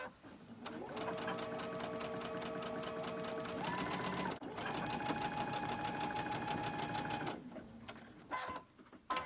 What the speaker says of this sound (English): I'm just going to start sewing